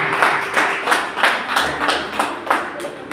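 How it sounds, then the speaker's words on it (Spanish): Church congregation clapping in steady rhythmic beats, about twice per second, loud and close in a reverberant hall, with no talking over it. "Denle un aplauso al Rey de Reyes."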